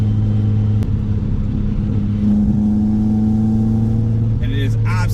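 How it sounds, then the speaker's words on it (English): A 1973 Datsun 240Z engine and exhaust drone steadily from inside the car, holding a constant low note that swells slightly partway through, heard alone and fairly loud. "The only thing is the exhaust does drone out the intake sound just a little bit"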